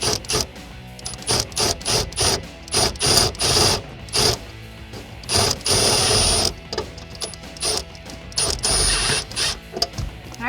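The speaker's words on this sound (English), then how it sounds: "now we're going to take one of the self-tapping screws that JMS provides for us" A power driver sets a self-tapping screw into a 2015-2017 Mustang, buzzing in short repeated bursts with brief pauses between them, close and fairly loud.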